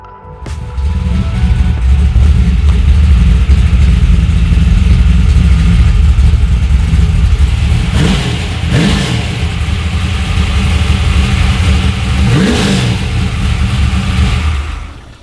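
A 1974 Ford Falcon XB 500 GS V8 idles loud and deep, then gives two sharp revs that rise and fall back. The heavy, rumbling idle continues between the revs.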